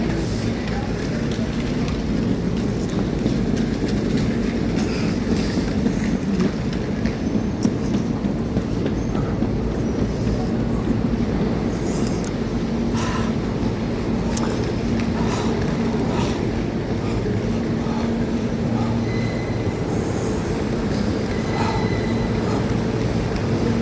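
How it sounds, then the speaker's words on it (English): A metro subway train pulls into an underground station on the red line, a steady loud rumble and rushing roar of the arriving cars filling the space continuously, with a few faint voices in the background. "Look, Metro's coming in"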